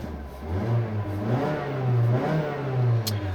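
A 2016 Mazda CX-3's 2-liter Skyactiv-G four-cylinder engine revs up and down several times, a steady mid-pitched drone swelling and easing, close by with no talk.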